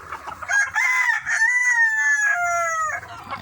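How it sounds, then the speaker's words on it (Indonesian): Roosters in a free-range village chicken colony coop crowing, one long loud crow rising and holding, with faint clucking around it. "Ayam jago semua guys."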